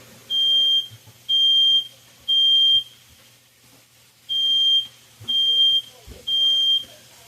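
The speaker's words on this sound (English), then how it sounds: "you hear that alarm sound? That's the smoke temperature alarm." Smoke alarm beeping in a kitchen while shrimp fried rice cooks, six sharp, evenly spaced high electronic beeps in two sets of three separated by a short pause, loud over faint kitchen background.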